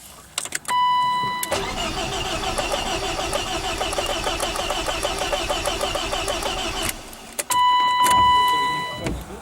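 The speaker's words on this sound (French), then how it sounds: "On dirait qu'il essaie même pas un peu de partir, il fait juste craquer" A BMW E36 318is cranks continuously for about six seconds without catching. The starter churns steadily and close up, with short electronic chimes before and after.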